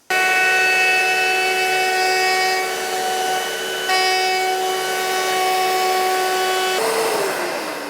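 A Trend 18V cordless router trims a wood edge with a loud, steady high-pitched whine that dips briefly midway, then spins down at the end.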